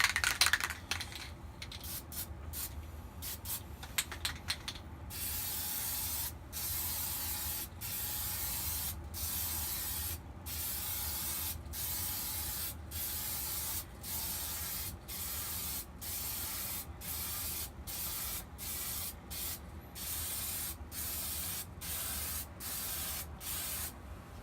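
Duplicolor spray paint hisses onto a bike in a long run of short bursts, each spray loud and sharp with brief pauses between, more rapid and irregular at first, then evenly spaced light passes.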